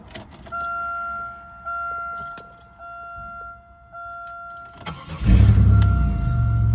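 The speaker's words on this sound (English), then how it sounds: "I'll do a quick startup." Keys jangle and a chime tone rings steadily, then a 2002 Buick Regal LS engine cranks and catches at 23 degrees, roaring loudly as it starts.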